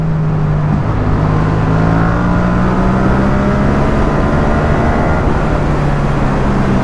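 A Yamaha XSR700 motorcycle rides along with a loud, steady engine drone and rising and falling tones as it shifts down a gear, heard close up from the rider's position with wind rush throughout.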